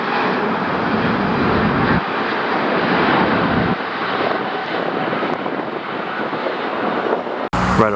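An ITA Airways jet airliner roars loudly and steadily on takeoff at LAX, a broad continuous engine rumble that holds for several seconds before cutting off abruptly near the end.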